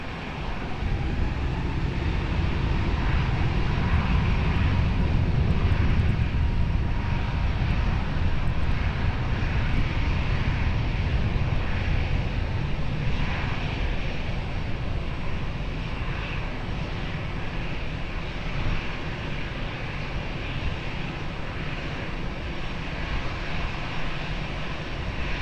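A jet airliner takes off from runway 20 at Lisbon Airport, its engines a steady, loud broadband roar that swells early and holds strong throughout, with no talk over it.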